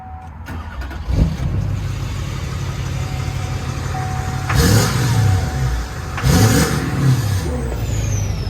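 A lifted, tuned 2010 Chevrolet Duramax LTZ diesel pickup on 35-inch mud-terrain tires cranks and fires, settling into a deep rumbling idle, then revs twice in sharp throaty bursts, loud and close.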